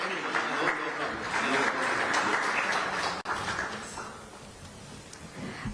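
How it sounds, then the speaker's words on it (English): Audience applause for a Chief Minister at a book launch, a sustained, even crowd clapping that thins out and fades toward the end with faint voices underneath. "A huge round of applause for the dynamic Chief Minister."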